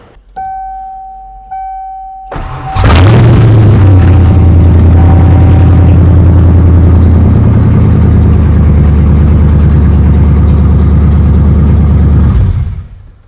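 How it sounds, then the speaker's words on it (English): A car freshly fitted with an engine: two warning chimes, then the starter cranks, the engine catches loudly and settles into a steady, even idle up close before cutting off. "I can scarcely believe how good it started and idled perfectly right out of the gate"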